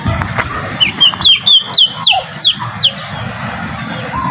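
A turkey gobbling loudly and close, a rapid series of about eight sharp, warbling calls in a row, then fading into outdoor background noise.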